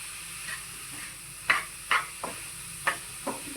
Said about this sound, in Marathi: पोळी वितळेपर्यंत जरा मंद गॅसवर आपण हलवत राहूया